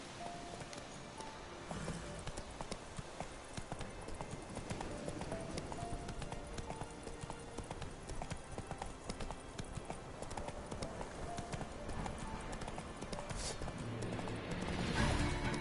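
Horse hooves clip-clop at a steady walking rhythm in a fantasy video game set in Velen, fairly close and quiet, with rustling and ambient game sounds around them.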